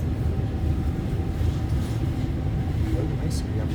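An REM light metro train decelerating after climbing a ramp, a steady low rumble of wheels and motors with a faint tonal whine, constant and close as heard from inside the car.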